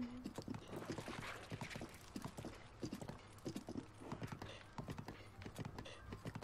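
Hooves clip-clop in a quick, steady trot from a horse in Zelda: Breath of the Wild, crisp and close, with no speech over it.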